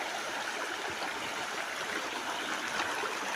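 Waterfall and stream at Iringan Falls in Pagbilao, in the mountains, a continuous broadband rush of falling and flowing water, steady and fairly faint with no voices.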